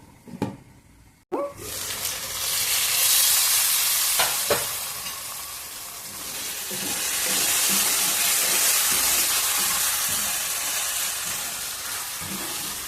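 Gongura chicken curry cooks in oil, giving a steady, loud sizzle and hiss with soft bubbling, close up. A few sharp knocks of a utensil against the pan come early on.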